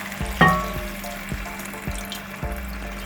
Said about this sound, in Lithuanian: dabar įpilsime šiek tiek vandens